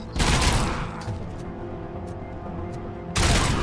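Gunfire in the RoboCop: Rogue City video game, a loud burst of shots at the start and another at the end, with a lower rumbling game soundtrack between them.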